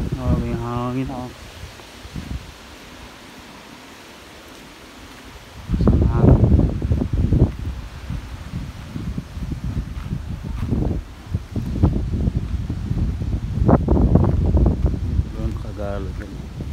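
Wind blowing at a seaside campground in Yarmouth, Nova Scotia, heavy gusts buffeting the microphone in a loud, rumbling roar, with people talking at the start and again briefly near the end.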